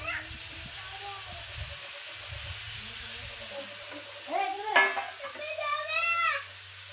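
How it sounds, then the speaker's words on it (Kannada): Ridge gourd sizzling as it fries in a pan with a little oil, a soft steady hiss with a few stirring scrapes and clinks, and a voice briefly audible near the end. "ಈಗ ನಾವು ಫ್ರೈ ಮಾಡ್ಲಕತ್ತಿವಲ್ರಿ ಹಿರಿಕಾಯಿ"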